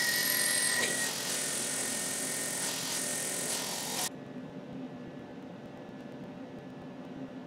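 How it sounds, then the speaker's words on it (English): A Tormach CNC mill drilling a 12 mm hole in a metal bar, a loud steady high whine with grinding texture that cuts off abruptly partway, leaving a quieter motor hum. "this is a close-up of the drilling operation"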